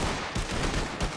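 A volley of gunfire on command from a line of shooters, a quick cluster of loud overlapping reports close by.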